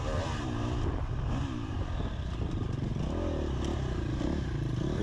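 Sportsman A class racing motorcycle accelerating hard in third gear around an airport circuit at MidEast Racing, engine roaring loud and close with steady revving and some clatter throughout.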